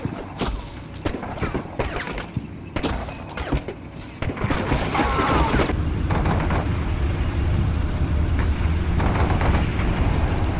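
Small arms fire in the Cold War combat video game Combat Mission Cold War: scattered rifle shots and bursts crackle at first, then a dense continuous fusillade of gunfire with thuds rolls on steadily.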